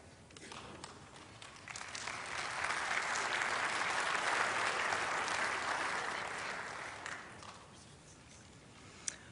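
Audience clapping at an interfaith prayer service, a broad wash of applause swelling in the middle and fading out over several seconds, with a few scattered claps at the end.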